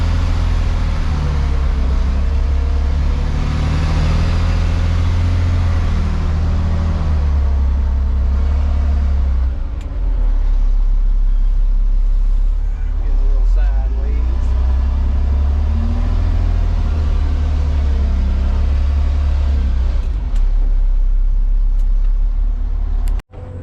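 A truck engine drones loud and close for over twenty seconds as the vehicle backs up and packs down material, rumbling steadily with slight swells in revs before cutting off abruptly at the end.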